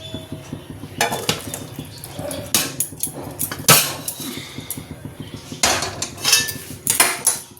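Fish curry with green tomatoes scraped out of a cooking pan in a home kitchen, with repeated metallic clinks and scrapes of a utensil against the pan in irregular bursts, close and fairly loud, no talking.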